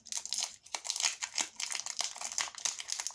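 A photo holder package is opened by hand. Close, bursty crinkling and rustling of plastic wrapping comes in quick irregular handfuls with short pauses.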